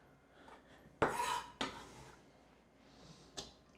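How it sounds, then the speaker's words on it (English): Knife chopping vegetables finely on a cutting board for Portuguese green salsa, a few sharp, separate knocks spaced irregularly in an otherwise quiet kitchen. "Just chop it nicely and fine."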